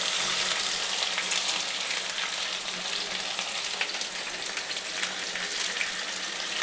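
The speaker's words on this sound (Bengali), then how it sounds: "এবার এতে আমি পোস্তটা ঢেলে নিচ্ছি" Poppy seed paste goes into a pan of fried potatoes with vegetable stems and green chilli for a Bengali vegetarian posto, producing a loud, continuous close-up sizzle that holds steady throughout.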